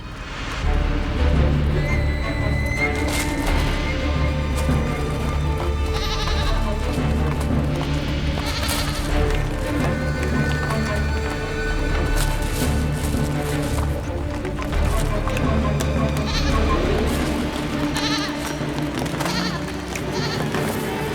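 A young goat bleats repeatedly amid dense layered sound in a snowy mountain setting, the calls rising over a busy continuous background that runs the whole length.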